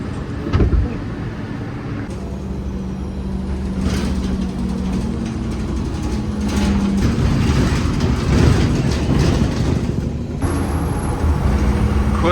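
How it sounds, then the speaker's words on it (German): A New York subway train rolls through Queens with a continuous loud rumble and rattle, hissing air brakes, and a thin high squeal near the end. "Jetzt gehen wir in die U-Bahn"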